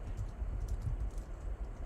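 Someone types on a computer keyboard nearby, a quick, uneven run of soft key clicks and taps over low background noise, with no talking.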